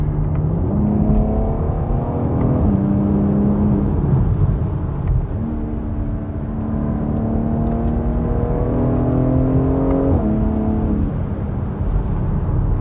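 A BMW X3 M's inline-six engine in M mode drones loudly and steadily from inside the cabin, its pitch climbing and dropping through gear changes over a constant road roar, with no talk.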